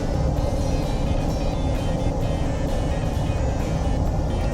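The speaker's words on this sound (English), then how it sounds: "Right now we are driving at our usual 65 miles per hour, and let's check the noise level inside the interior." Steady, loud road and tire roar fills the cabin of a 2019 Honda Ridgeline pickup cruising at 65 mph, a constant low rumble with broadband wind hiss and no talking.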